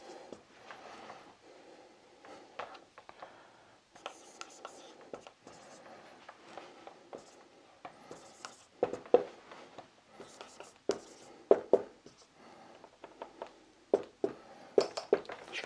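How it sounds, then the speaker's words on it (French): Scratchy, intermittent strokes of someone writing Arabic letters in red, coming in short bursts with pauses, growing busier and sharper in the second half, with faint breathy voice sounds in between. "Je vais l'écrire en rouge aussi"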